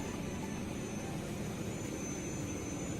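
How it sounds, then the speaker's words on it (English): Auxiliary power unit of an Airbus A380 running in Microsoft Flight Simulator 2020, a steady, even jet-like roar with a thin high whine, constant and unbroken with no talk. "So we just started the APU, so that's that noise back there"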